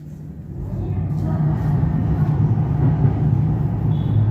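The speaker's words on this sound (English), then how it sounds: "You can hear the trains above, can't you?" Melbourne trains rumbling overhead in an underground station concourse, a steady, heavy low-frequency roar that builds slightly and holds throughout.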